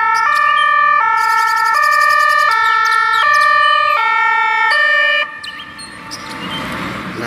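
A loud two-tone ambulance siren alternates high and low notes up close, then cuts off, leaving quieter road noise.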